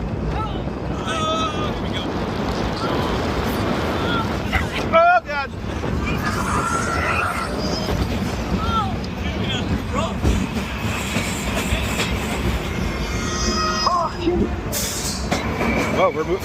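Loch Ness Monster roller coaster at Busch Gardens Williamsburg rumbling along its track, a steady rattling roar with clacking and wind buffeting from onboard, as riders shout and talk over the noise.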